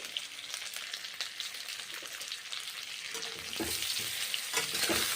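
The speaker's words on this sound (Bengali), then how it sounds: "গরম গাওয়া ঘি পিঠে ভেজে নিচ্ছি" Pitha frying in hot ghee sizzles steadily close by, a dense crackling hiss that grows a little louder and busier toward the end, with no talk.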